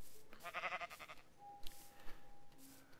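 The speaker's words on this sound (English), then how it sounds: "Some sheepies, a black sheep." A sheep bleats once in a Minecraft modpack game: a short, wavering, nasal cry that stands out over quiet background sound, with a faint steady tone afterward.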